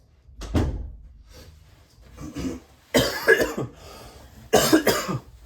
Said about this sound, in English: I have a nasty, nasty cough there